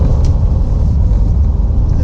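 The engine of a 2022 Honda Ridgeline pickup truck on the move gives a loud, steady low rumble with road roar underneath, continuous and close, with no speech.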